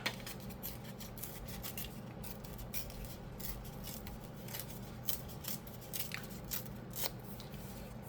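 Scissors snip through paper while a junk journal is made, giving a steady run of small, close, crisp cuts over a low background hum.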